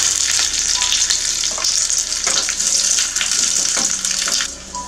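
Mustard seeds, urad dal and curry leaves fry in a small amount of oil in a tempering pan for Andhra-style kara chutney, giving a steady, bright crackling sizzle with small pops throughout.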